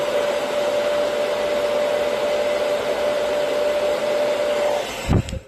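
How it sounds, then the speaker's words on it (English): A blow dryer roars steadily at close range with a constant whine, then cuts off near the end with a brief thump. "I love to curl my lashes with a blow dryer"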